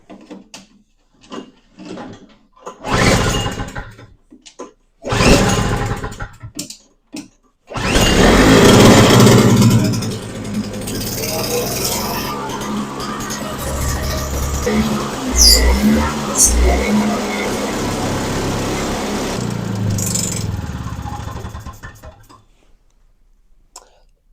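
A small engine on a free snow blower sputters, then catches and runs with a rough, uneven drone for about fourteen seconds, preceded by short bursts and pulls, with voices talking over it at times.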